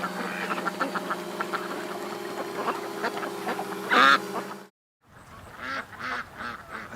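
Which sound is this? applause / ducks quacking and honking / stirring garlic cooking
ducks quacking and honking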